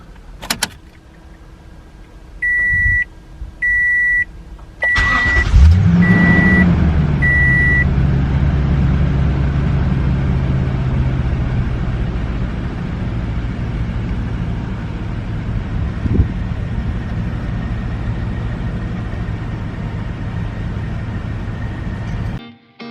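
A car engine cranks and fires up, then settles into a steady idle, after a tune is installed with an SCT BDX Performance Programmer; a few repeated electronic chimes sound before the start.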